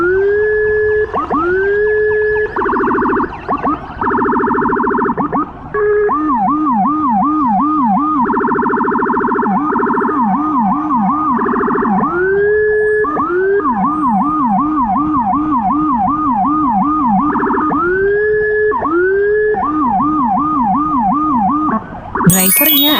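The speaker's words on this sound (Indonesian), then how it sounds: "Ambulan Rumah Sakit Wirahusada Kisaran." A loud, close siren from a hospital ambulance under escort in Medan, cycling between a long rising wail and rapid yelping warbles, steady for the whole stretch.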